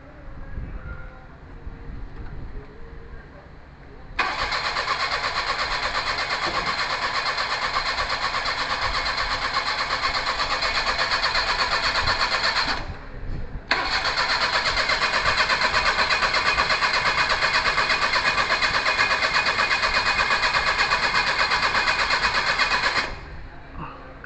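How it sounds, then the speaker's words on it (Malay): A Perodua Kancil car engine with a replaced carburetor turns over and runs as a loud, steady mechanical drone, briefly cutting out midway before resuming for several more seconds, close to the listener. "Gentlemen, start your engine."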